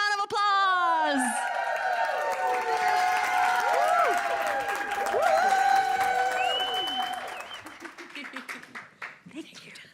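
Audience applause and cheering with whoops rings out for a female coach and mentor being brought onto a stage at an inspirational speaking event, loud and sustained before tapering off near the end, with voices mixed into the crowd noise.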